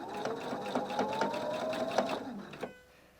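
Sewing machine fitted with a bias binder foot stitching fabric, a close rhythmic mechanical whir with regular needle clicks lasting a few seconds before stopping.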